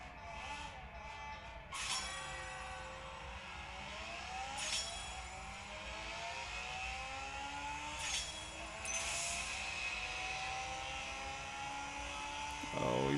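Racing cars in The Crew play on a phone, with engines whining and rising steadily through gear shifts and sharp whooshes passing by over about thirteen seconds of continuous motor noise.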